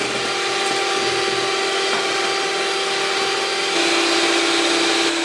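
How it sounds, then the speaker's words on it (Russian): Electric hand mixer whisking sponge cake batter at maximum speed, a steady loud motor whine with a constant tone holding throughout, no talking. "Взбиваем на максимальной скорости."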